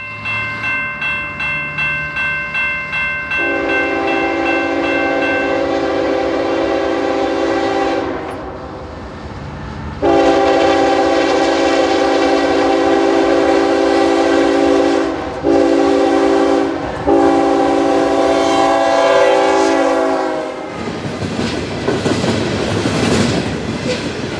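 A southbound freight train in Louisiana on Canadian National and Kansas City Southern lines sounds long, loud horn blasts as it passes, with rhythmic wheel clatter underneath and the rumble fading at the end.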